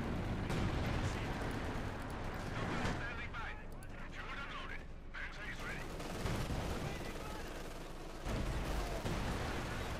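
Dense bursts of machine gun fire and heavy battle explosions in Company of Heroes 2, loud and continuous across the whole stretch, with a commentator's voice running beneath.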